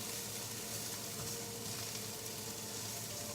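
Cabbage, carrots and onions cooking down in a pan on high heat make a steady, even sizzle with fine crackle throughout, close but fairly quiet.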